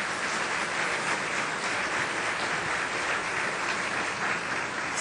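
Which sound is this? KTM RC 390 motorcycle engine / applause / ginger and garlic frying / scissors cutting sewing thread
applause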